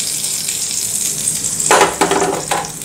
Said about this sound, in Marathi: आणि ही फोडणी आपण या चटणीवरती घालूया